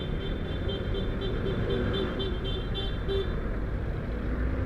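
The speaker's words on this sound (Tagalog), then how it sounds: "Ito na yung busina." A horn toots in a rapid run of short, repeated beeps amid street traffic during a scooter ride, over a steady rumble of engine and road noise.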